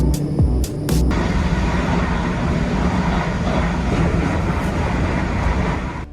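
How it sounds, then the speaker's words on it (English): Several Japanese trains roll past together in a loud, continuous rumble of wheels and machinery that lasts throughout, with a couple of sharp clanks near the start. "this scene shows several trains moving together with incredible timing"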